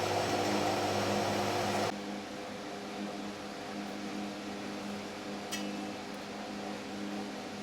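A 1973 Sears Coldspot dehumidifier fan, freshly oiled, spins with a steady motor hum that cuts off abruptly after about two seconds, leaving a faint whirring rundown in a quiet room.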